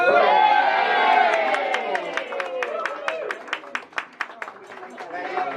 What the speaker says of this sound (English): how about a wonderful round of applause?